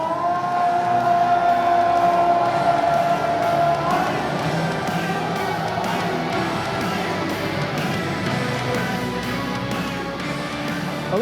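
A packed Muay Thai stadium crowd roaring for a fighter's introduction at an RWS fight night at Rajadamnern Stadium, a dense sustained cheer with a long tonal wail running through it.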